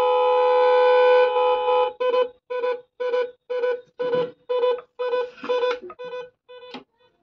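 A set of 12-volt trumpet horns running off a 3S battery pack with a 20 A BMS blares one long sustained note, then a rapid series of short, loud, evenly spaced blasts, close up and with no talk over them.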